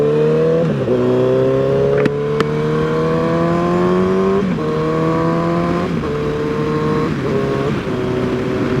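2008 Suzuki Hayabusa sport bike on the move, its engine rising in pitch through a gear, dropping at each shift and climbing again, loud and close throughout with wind rush and no talking.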